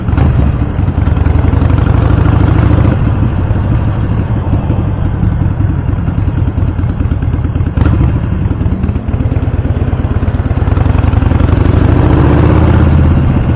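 A mixed group of motorcycles, including automatics, sport bikes and Harleys, rolls slowly on a Sunday morning ride in Lombok. Loud, continuous engine rumble and clatter up close, with low idling throbs and brief revs and no talk.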